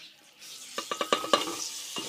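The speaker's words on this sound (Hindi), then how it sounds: "अब हम इनको भून लेंगे।" Spices frying in a pan for karhi pakora: a quiet start, then a run of quick scraping stirs and light clicks over soft sizzling, close by and without speech.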